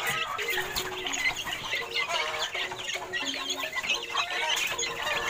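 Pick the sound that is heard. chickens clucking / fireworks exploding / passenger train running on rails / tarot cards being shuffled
chickens clucking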